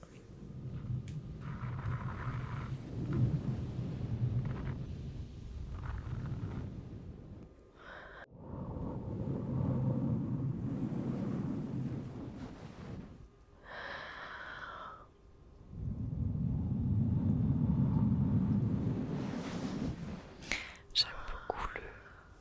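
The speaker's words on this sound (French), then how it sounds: "J'aime beaucoup le son du village avec le vent qui souffle dans les oreilles." Wind blowing through a village in the video game Star Stable Online, with long soft whooshing gusts that swell and fade in broad waves, then a few small clicks near the end.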